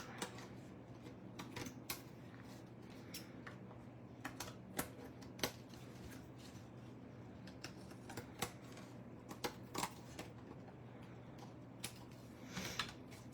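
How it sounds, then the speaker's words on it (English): Shears snip through glued card panel pieces for Stampin' Up! Snowy Delights cards: faint, crisp, irregular cuts scattered over a quiet room. "I'm just gonna take my shears to the back of them and start a trimming like this"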